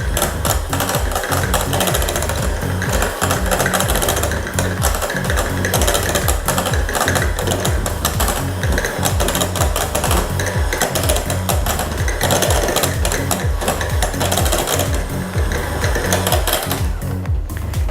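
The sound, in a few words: electric mixer creaming butter and shortening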